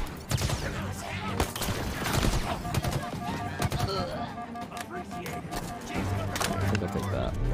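Rapid bursts of gunfire from the Halo video game crackle close and loud, dense and overlapping, with other game sounds and occasional voices underneath.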